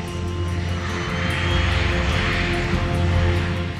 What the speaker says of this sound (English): This is my very first time flying in a G5 jet, which seats 15 passengers very comfortably.